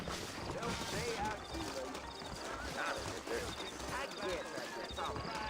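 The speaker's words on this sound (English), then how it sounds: "I got the horses saddled up and ready out front." Rhythmic clip-clop of horse hooves amid a busy Red Dead Redemption game soundscape, with voices talking over it and a brief whinny.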